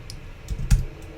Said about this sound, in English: I'm going to type in TEXT